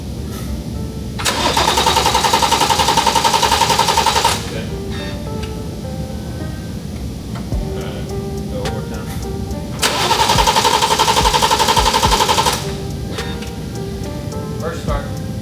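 BMW X3 M40i with a newly installed F660 hybrid turbo cranks and catches twice, each loud start-up burst lasting a few seconds before settling to a steady idle, with voices heard nearby.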